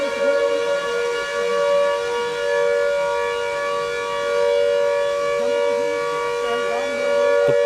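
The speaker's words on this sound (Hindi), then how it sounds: "फिर से सायरन यहाँ पे बजने की आवाज़।" A civil defense siren wails steadily at a sustained pitch during an air-raid drill in Shimla, India, loud and continuous, with faint background noise beneath.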